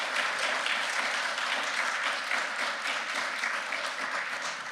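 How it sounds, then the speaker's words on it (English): A crowd at a scholarship ceremony gives a round of applause for the students of an essay contest, a steady, full, close wash of clapping that holds evenly throughout. "could we just have another round of applause to recognize all the students who participated in the essay contest real quick?"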